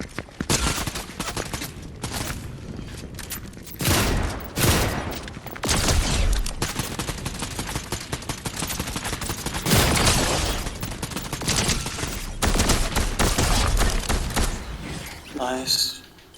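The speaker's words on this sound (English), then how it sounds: "Somebody shooting at you?" Gunfire in the Fortnite video game, with repeated loud bursts of shots and rapid volleys spread across the stretch, mixed with game noise and occasional talk.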